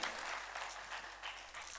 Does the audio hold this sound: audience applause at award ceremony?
yes